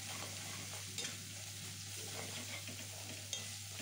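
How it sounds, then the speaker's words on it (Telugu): Tempering spices fry in hot oil for tomato rice, a soft, steady sizzle with occasional stirring clicks, close and fairly quiet with no talk. "ఇవి కూడా కాస్త బ్రౌనిష్ కలర్ వచ్చేంత వరకు వేయించుకోండి."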